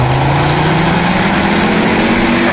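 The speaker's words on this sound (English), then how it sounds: "One of my favourite parts of this car is the sound of the engine." A Ford Focus RS engine idles steadily, with a low, even drone and a faint harmonic whine held constant throughout, loud and close with no voices.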